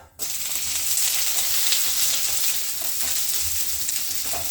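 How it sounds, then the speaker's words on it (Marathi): Chopped onion lands in hot oil in a pan for mattar paneer and immediately breaks into a loud, close, continuous sizzle that holds steady for several seconds, with no one speaking. "आता आपण याच्यामध्ये कांदा टाकूयात"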